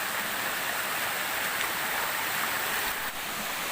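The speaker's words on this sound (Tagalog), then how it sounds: "paanan ng waterfalls, ng Busay Waterfalls. So, tuloy-tuloy na tayo. Lakas sa tubig, no?" Strong rushing water at the foot of Busay Waterfalls, a steady loud broadband roar that stays constant throughout without pause.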